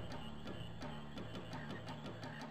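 Frogs croaking in the video game Final Fantasy IX, a quick, regular series of about eight sharp croaks roughly a third of a second apart, set against soft, steady game music with no talking.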